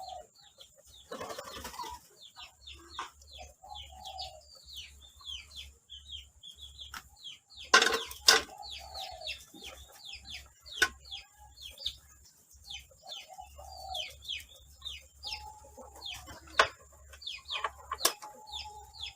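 Chickens cluck and a rooster calls outdoors among chirping birds, with scattered calls and a brief burst of wing flapping, fairly close and heard alone without talk.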